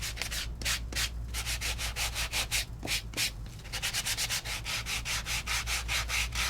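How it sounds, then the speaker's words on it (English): Sanding off the top layer of embossed card stock by hand, fast rhythmic scratchy rubbing strokes, close and continuous over a low steady background hum. "So it is meant to sand off the top layer to expose a layer underneath that's slightly lighter in color."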